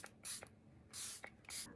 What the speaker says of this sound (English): Now I'm going to finish off this look with the Charlotte Tilbury Airbrush Flawless Setting Spray.